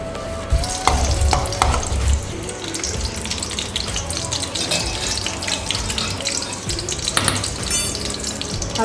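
Two or three crushed garlic cloves fry in about 100 grams of hot oil in a kadai for a potato fry, a steady close sizzle with a few clinks and stirring sounds.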